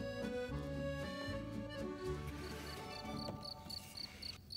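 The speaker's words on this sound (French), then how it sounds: "on écoute la chanson du grillon dans le noir" A cricket chirps at night in regular short pulses, heard over steady music that plays throughout.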